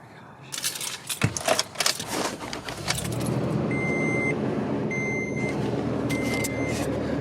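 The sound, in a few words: truck engine running and moving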